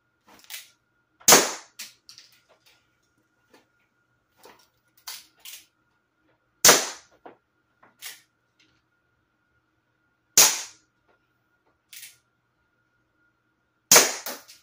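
Sharp, loud air pistol shots from a CO2-powered Colt 45 replica fired at candy corn, six main cracks spaced a few seconds apart, each followed by a fainter tick or impact, with quiet gaps between and no talking.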